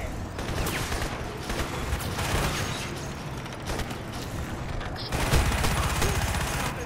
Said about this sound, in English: I love the minigun. It's so good.